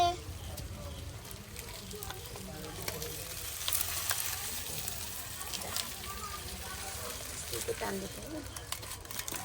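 Fish fries in a pan with a soft, continuous sizzle and crackle heard at moderate distance, steady throughout, while people talk quietly over it.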